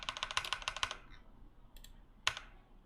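Rapid run of crisp computer keyboard Tab key presses, about a dozen quick clicks close together, then a lone faint tap and one sharper click after a pause, with no voice.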